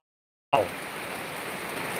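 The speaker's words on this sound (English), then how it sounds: "Wow, look at that wind. Whip that rain across the sandbars out there." Wind-driven rain sweeping across coastal sandbars in the Philippines, a steady loud broadband hiss that starts abruptly and holds constant without breaks.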